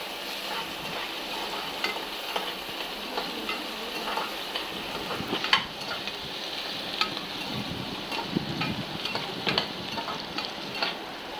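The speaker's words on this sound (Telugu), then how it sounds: "ఉల్లిపాయలు మిరపకాయలు అన్నీ వేసుకోవాలి. అన్నీ రెడ్డిష్ కలర్లో వచ్చినంత వరకు మంచిగా వేపుకోవాలి" Onions and chillies frying in a kadai give off a continuous moderate sizzle, with irregular scrapes and taps from stirring scattered throughout and one sharper clack midway.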